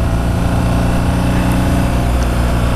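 A BMW R nineT motorcycle engine drones loud and steady with a dense low rumble and harmonic hum as it runs under acceleration, close and constant throughout.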